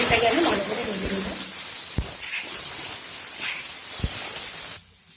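Chopped onion fries in a little mustard oil in a kadai, producing a continuous close sizzle with occasional scraping ticks, cutting off abruptly near the end.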